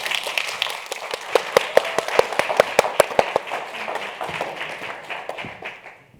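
Conference audience applauding speakers on stage at the Skoll World Forum: a burst of sharp, separate hand claps that swells into steady applause, then thins and fades toward the end.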